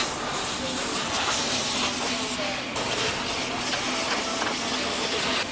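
A vacuum cleaner sucks dirt from the inside of a car, giving a steady, loud rushing hiss of airflow that holds almost unchanged throughout, with small shifts as the nozzle moves.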